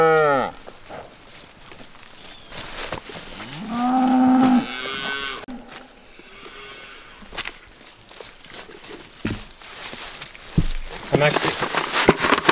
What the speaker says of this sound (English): The bull and the cow and four goats are chasing this bucket.